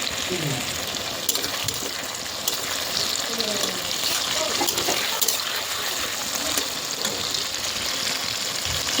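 Onions frying in a pan for winter khichuri, a dense continuous sizzle with scraping stirs close up, steady throughout with no voices over it.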